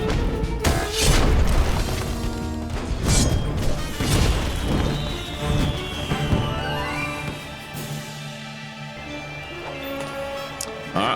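A Missile Barrage attack in the game Costume Quest sets off a string of deep, booming explosions and crashes, loud and close, fading into a sweeping tone and quieter mechanical sounds.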